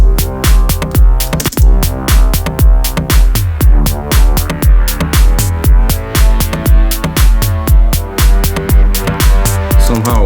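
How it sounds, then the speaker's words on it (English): Loud, rhythmic acoustic deep house music with steady pulsing beats, each note ringing out in a heavily reverberant, washed-out tail. "Way too much reverb."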